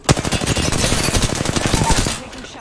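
Automatic gunfire in the battle-royale game Apex Legends, a rapid loud burst of close shots in quick rhythm lasting a couple of seconds before cutting off.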